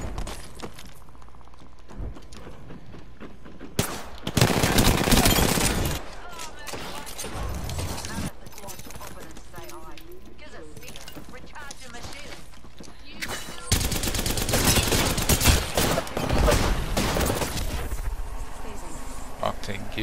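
Video game gunfire in a battle royale match, with dense bursts of rapid shots in two loud stretches and quieter fighting between them, under a player's talk.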